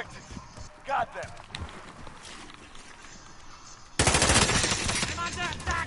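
A .50 cal machine gun fires in a PS4 multiplayer shooter, with sustained loud bursts kicking in partway through after quieter scattered battle noise and game voices.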